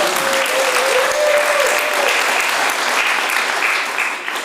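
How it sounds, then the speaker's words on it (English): A warm round of applause for a credit union sponsor at a Newmarket evening event, dense and steady from a full room, fading slightly at the end. "Let's hear a warm applause for Meridian Credit"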